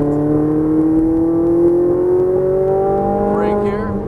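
A Ferrari 458 Italia accelerates on a race track in Vegas, its engine tone rising steadily in a loud, smooth whine with strong harmonics, then shifting briefly near the end while a driver talks over it.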